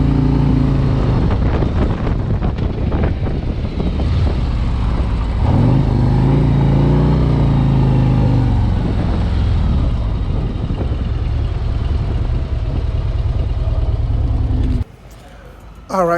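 A 2024 Harley-Davidson Road Glide motorcycle engine runs loudly and close, a deep rumbling drone that swells and eases with throttle before cutting off near the end.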